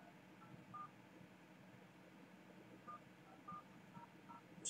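Telephone number being dialed as a call is placed to a bar late at night, with a handful of short DTMF key tones spread across a quiet, hissy room background.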